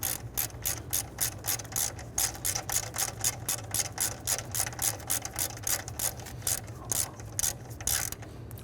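A ratchet tightens a nut on the intake manifold of a 1999-2004 Jeep Grand Cherokee 4.7L V8, with rapid, even clicking in repeated strokes, close up and alone.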